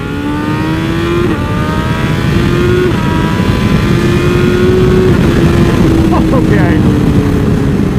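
Tuned BMW S1000RR superbike engine revving hard and pulling through rising gears, a loud, continuous near howl with repeated upward sweeps and brief shift breaks.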